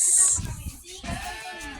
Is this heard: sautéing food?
no